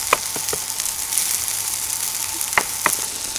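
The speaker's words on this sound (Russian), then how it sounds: "пока цыпленок табака уже жарится" Steady sizzling and crackling of chicken tabaka frying in a hot pan, with a few small pops and spatters over the constant hiss.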